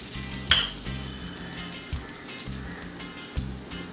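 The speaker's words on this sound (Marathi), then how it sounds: "त्याच कढईत आपण 1 वाटी खोवलेलं खोबरं भाजून घेऊया" Grated coconut roasting in a kadhai makes a soft, continuous sizzle with a sharp scrape near the start and a few faint clinks over a low background hum.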